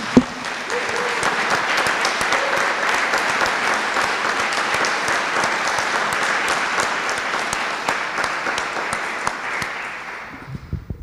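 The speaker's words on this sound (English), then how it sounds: "let's again show our appreciation by applauding loudly for all of the speakers" A large lecture audience at a scientific conference applauds loudly and steadily for the speakers, a dense, even roar of clapping that holds for about ten seconds before tapering off at the end.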